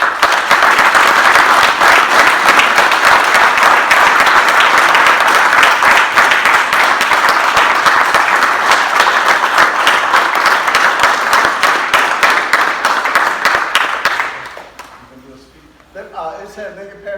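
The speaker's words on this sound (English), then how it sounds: "Can we give him a hand clap" Audience hand clapping at a Lincoln Parish Police Jury meeting in Louisiana, loud dense applause sustained for about fourteen seconds before dying away, followed by a few faint voices.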